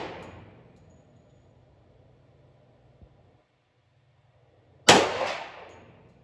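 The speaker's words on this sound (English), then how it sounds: "Good shot, a little high, but it's still on target. 15 yards, that's good." Single sharp gunshot at a steel target 15 yards away, a loud broadband crack with a ringing metallic decay, preceded by a faint tick and quiet background.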